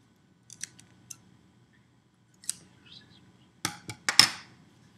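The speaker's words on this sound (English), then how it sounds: "So I'm going to cut the string right there, just like that." Scissors snip through a piece of string held against a plate: a few light, quick cuts early on, then a louder cluster of sharp snips near the end, close and clear with no talking.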